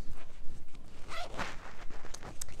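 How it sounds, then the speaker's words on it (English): Zipper on a new bag pulled open and shut several times in quick rasping strokes, close and fairly soft, with light handling noise between pulls. "It has six zips."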